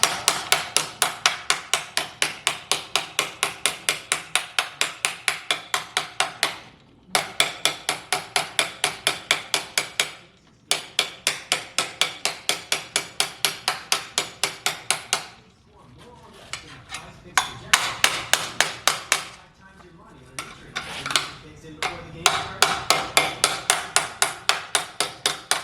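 Rapid, steady hammer blows ring out on sheet metal during drip rail rust repair on a 1955 Chevy Handyman Wagon, in long runs broken by brief pauses, loud and close.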